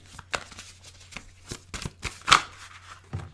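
Tarot cards being shuffled by hand, a series of quick, close, crisp riffles and slaps, one louder snap near the middle, with no talk.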